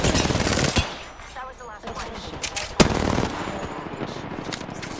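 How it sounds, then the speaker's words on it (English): Rapid automatic gunfire from the Apex Legends Season 7 battle royale video game, a loud steady burst with one sharp crack near the middle, ongoing throughout and fading slightly near the end. "Dude, they shot from the other team."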